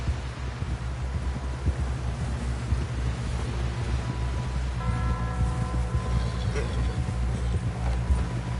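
Horse hooves clip-clop at a steady trot in a PS4 western video game, a rhythmic mid-distance beat under low rumbling background noise, with faint tonal game sounds and no talk.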